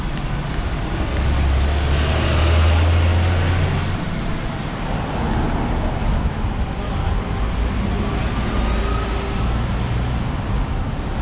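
A Shanghai tour bus rolls by amid steady street traffic, a loud continuous roar of engines and road noise with a deep low rumble swelling early on, no talking.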